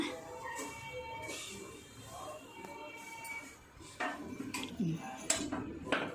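A spoon scrapes and clinks against a pan and plate while fried moong dal is scooped out, giving light metallic taps and scrapes close by with some faint talk underneath.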